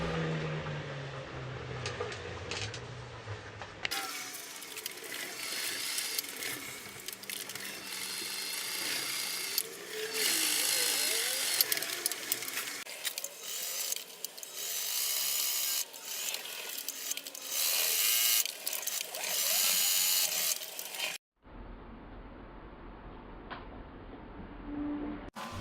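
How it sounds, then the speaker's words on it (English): A sewing machine stitches Velcro onto a fixed gear bicycle pedal strap, a close, steady mechanical whirring hum in long runs with brief stops and fabric rubbing. "And now for the part where we sew the Velcro on."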